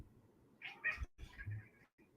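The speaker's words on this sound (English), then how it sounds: "the cat has a lot to say to the birds right now." A cat making a few short chattering meows, close and fairly quiet, with brief pauses between calls.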